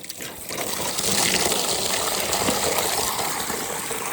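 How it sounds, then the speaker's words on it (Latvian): Water gushes steadily from a hose or pipe into a horse trough in a stable yard, a continuous splashing rush filling the scene, close and fairly loud. "Ielaisim zirgiem ūdeni."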